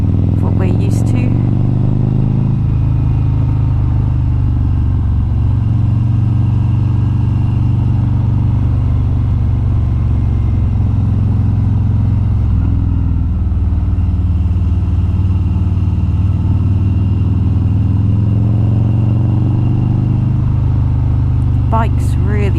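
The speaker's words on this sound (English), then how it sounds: "Bike's really sounding good." Harley Davidson motorcycle engine rumbles steadily and loud while riding on wet country roads between Cairns and Atherton, Australia, a continuous low drone with faint wind noise throughout.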